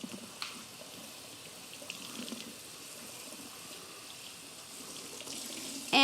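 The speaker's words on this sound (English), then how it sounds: "Just want to really do a nice rinsing." Artichoke being rinsed under a running kitchen tap, a soft, steady stream of water splashing in a sink, fairly faint, with a louder clatter at the very end.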